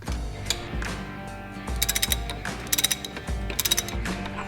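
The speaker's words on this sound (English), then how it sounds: "Then nip them up with a spanner." Motorcycle chain tensioners tightened with a spanner, a close ratcheting clatter in short bursts of rapid clicks between pauses.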